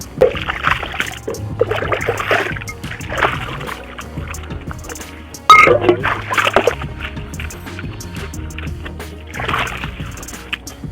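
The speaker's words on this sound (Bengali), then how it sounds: "এখন এই কাঁসার থালার বাটিটা পুকুরের জলে ভালো করে ধুয়ে নেব" Brass plates and a brass bowl being rinsed in village pond water, with steady splashing, sloshing and dripping plus occasional metallic knocks, close and continuous throughout.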